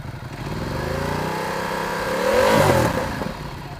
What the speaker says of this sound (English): Give you a little rev here, this bad boy.